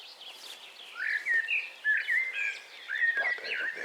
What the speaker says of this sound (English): Blackbird up there looking for worms. Oh, sparrow, look, there we are.